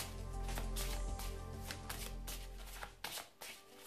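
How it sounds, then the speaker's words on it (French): A deck of rune divination cards is shuffled by hand, a dense, continuous riffling flutter with quick repeated bursts, close and fairly quiet. "on va mélanger un peu le jeu"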